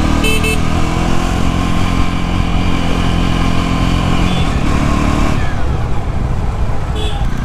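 Jawa motorcycle pulls hard through its first gears, engine roaring loud and close with rising pitch, a brief dip at a shift, then climbing again over rushing wind noise.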